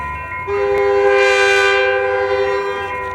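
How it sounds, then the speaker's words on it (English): A southbound FrontRunner commuter train bound for Provo sounds a loud, sustained chorded horn salute close by, blasting steadily for about three seconds with rail noise underneath. "This one heading southbound to Provo with a nice crew on it who gave a horn salute."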